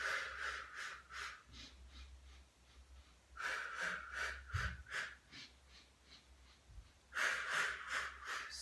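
Rhythmic audible breathing from a Pilates mat class with a mini ball, steady puffs of exhalation repeating in bursts while arms pump, fairly close and moderately loud.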